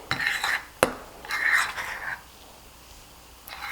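Sourdough bread dough being mixed in a bowl, with a few bursts of scraping and clinking from a spoon against the bowl and one sharp knock, then a stretch of near quiet.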